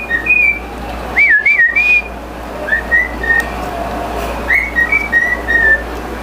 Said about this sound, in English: you hear my bird whistling back here? That's the cockatiel.